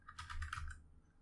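Quick clatter of keystrokes on a computer keyboard, a short close burst of typing that fades out, with no voices.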